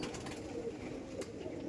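Andhra pigeons coo softly at a pigeon seller's loft, faint low murmuring calls repeated under a quiet background.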